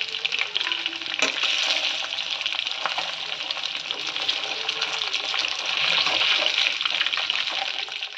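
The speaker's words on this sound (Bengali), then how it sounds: "চিকেনগুলোকে আরেকবার করে ভেজে নিচ্ছি" Chicken pieces for restaurant-style chili chicken fry a second time in hot oil, giving a dense, continuous close sizzle with a few light stirring knocks, steady and loud across the whole stretch with no talking.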